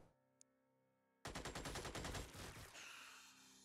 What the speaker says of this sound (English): open up with our machine gun